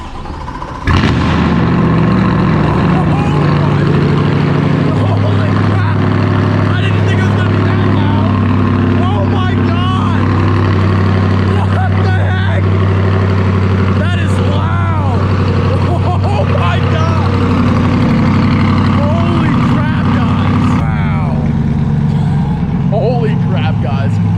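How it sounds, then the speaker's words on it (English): A C8 Corvette V8 engine fires up with a loud burst and rumbles, revving repeatedly with deep exhaust growl and pops, people speaking over it. "Always gonna sound good, it's a V8"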